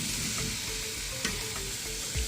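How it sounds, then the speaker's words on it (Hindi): Finely chopped onions fry in two tablespoons of ghee in a pan, giving a continuous close sizzle with a few faint clicks and a soft thump near the end. No one speaks. "इसको लाइट ब्राउन होने तक अच्छे से फ्राई करेंगे"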